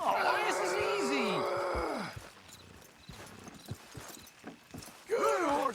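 Horses' hooves clip-clopping in Red Dead Redemption 2, a steady run of hoof beats with horse snorts and breaths, dropping quieter midway and returning near the end, under a voice urging the horses on.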